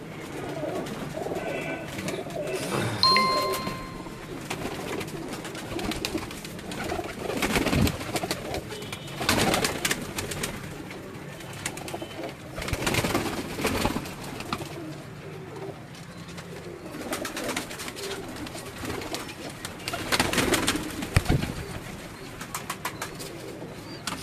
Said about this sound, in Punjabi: ਉਹਨਾਂ ਦੇ ਨੀਲ ਦੁੰਬੇ ਤੇ ਲੰਬਾਰੀ ਵਾਲੇ ਕਬੂਤਰ ਨੇ ਜੀ